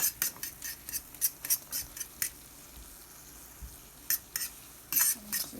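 Eggs are soft scrambled in a pan, with a quick run of crisp spatula scrapes and taps against the pan over a low sizzle, a pause, then another burst of scraping.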